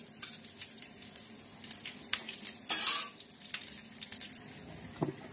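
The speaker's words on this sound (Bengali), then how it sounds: "এবার দিয়ে দেবো তেল, সর্ষের তেল। আমি দিয়ে দেবো এর মধ্যে গোটা শুকনো লঙ্কা, গোটা জিরে ফোড়ন দিলাম।" Whole dry red chillies and cumin seeds hit hot mustard oil in a kadai, giving a faint crackling sizzle with clinks of a utensil on the pan and one brief louder burst of spluttering.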